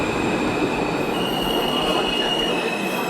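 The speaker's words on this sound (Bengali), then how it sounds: "ট্রেন এসে থামল" Train pulling into Joychandi Pahar railway station, a loud, steady rumble of wagons with squealing wheels braking as it slows, close and continuous with no voices.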